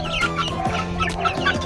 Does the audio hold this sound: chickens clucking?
yes